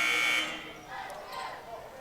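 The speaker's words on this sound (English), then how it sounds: "as the buzzer sounds" A basketball game buzzer sounds in a brief, loud blast at the start of a men's college basketball game against PIU, then fades into ongoing arena crowd noise and indistinct voices.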